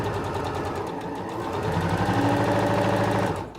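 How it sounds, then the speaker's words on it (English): A Singer Professional 9100 sewing machine stitches a seam with a fast, even mechanical whir that runs loud and continuous, then stops near the end. "So now I'm going to sew all the way to the bottom"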